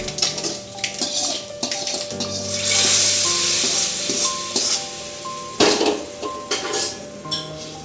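Fenugreek seeds and dried turkey berries frying in oil for a vatha kuzhambu, with close sizzling and crackling alongside clinks and scrapes of a metal spoon stirring in the pan.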